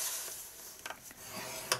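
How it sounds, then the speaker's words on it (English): A scoring tool is drawn across a cardstock gift box lid, producing faint, quick scraping strokes with soft rubbing in between. "Now we're going to score the lid while we're here."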